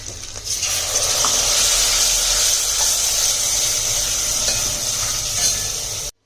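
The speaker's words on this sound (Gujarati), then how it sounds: "આ બધું નાખી અને થોડી વાર હલાવી દેવાનું અને ડાયરેક્ટ આપણી જે દાળ બાફેલી છે એને એડ કરી દેવાની" Boiled dal hits a hot spiced tempering with red chili powder, giving a loud, steady sizzle and hiss that runs continuously close up, then cuts off abruptly at the end.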